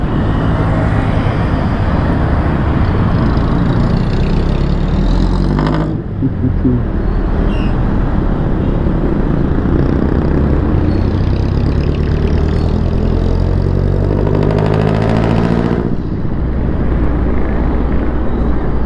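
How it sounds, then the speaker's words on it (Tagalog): Jeepney engines idling in Philippine town traffic, a loud, steady diesel rumble that fills the clip, with a brief dip in intensity twice as vehicles shift or pass nearby. "Ang ganda ng mga tunog ng jeep mga idol, no?"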